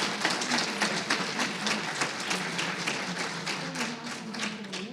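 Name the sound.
audience applause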